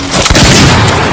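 A gunshot fired during a film duel, one abrupt loud bang in the middle of the second exchange of shots, set against a dense, noisy soundtrack.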